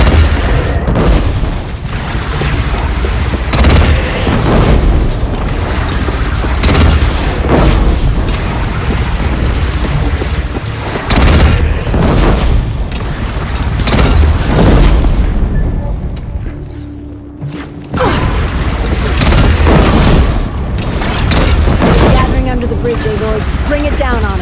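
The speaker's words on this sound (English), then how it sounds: "They only have one cannon!" Cannon fire and explosions in the video game Horizon Zero Dawn, a dense series of loud booms and blasts with rumbling debris, heavy and continuous with a brief lull, under occasional voices.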